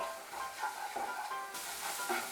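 A spice paste seasoned with salt and sugar sizzles and fries steadily in a pan for a traditional Bengali dish, with soft scraping stir strokes close by and no voices.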